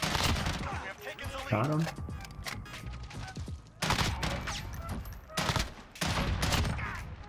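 Repeated burst-fire gunshots from a FAMAS rifle in a Call of Duty Modern Warfare match, sharp clustered bursts cracking loudly over continuous battle noise, with a player's brief voice in between.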